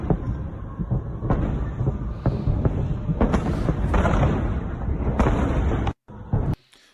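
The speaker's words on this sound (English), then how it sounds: "The severity of the barrage that we were hearing right there leads us to believe that it is another MLRS barrage" MLRS rocket barrage explosions in wartime footage, a continuous rumbling roar of repeated blasts and booms with sharp cracks, loud and sustained before cutting off abruptly near the end.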